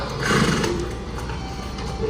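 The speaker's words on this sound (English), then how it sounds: "Can you hear that? The horse clop?" A horse's hooves clop faintly in the background of a history museum exhibit, soft, irregular thuds amid room noise with no talk.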